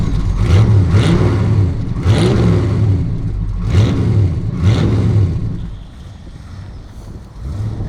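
An AK Sportscars Cobra engine heard close and loud, revving in a series of rising bursts with a deep throbbing rumble that eases to a lower idle near the end.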